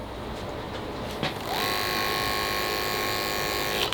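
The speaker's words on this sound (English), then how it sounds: "Now you may have heard that I turned the speed on the clipper all the way down." Electric hair clipper with detachable blades running at its lowest speed during a military skin fade haircut, a steady mechanical buzz that starts partway in and holds evenly to the end.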